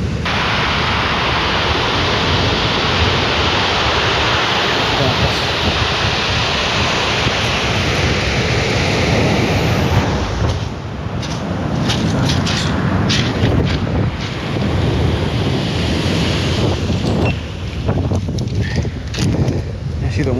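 Strong wind gusts buffet the microphone while ocean waves break on a beach where people fish for corvina. A constant loud roar runs throughout and turns slightly choppier toward the end.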